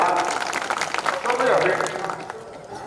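An audience claps at a kavi sammelan at the Kishanpur fair, a burst of scattered applause that swells and then fades, with a voice talking over it through a sound system.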